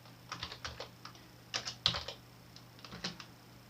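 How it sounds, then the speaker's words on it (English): Quiet, close keystrokes on a computer keyboard as a DISM command is entered, coming in short clustered bursts of clicks separated by brief pauses, without any speech. "I can type again DISM, all in capitals"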